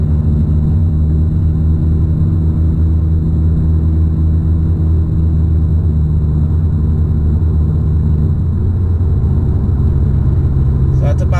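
A 2018-2019 Honda Accord fitted with a Thermal R&D exhaust accelerates under normal driving up to about 70 mph, giving a steady, loud low droning engine and exhaust rumble heard from inside the cabin throughout.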